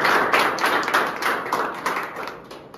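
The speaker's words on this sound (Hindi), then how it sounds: "बाकी भाई के लिए ताली बजा दो" A small group claps for a student at a salon academy certificate day, quick uneven hand claps close by, continuing steadily for a few seconds without talk.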